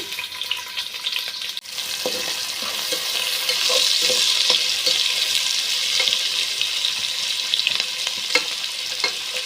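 Chopped onions fry in oil with cardamom, cloves and bay leaves for chicken biryani, giving a loud continuous sizzling hiss with scattered light clicks and stirring scrapes.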